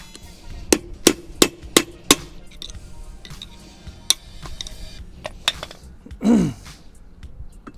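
Gentle hammer taps knocking out the front wheel bearing race on a VW Combi, several sharp metallic strikes in quick succession, then sparser knocks and a brief scraping clunk.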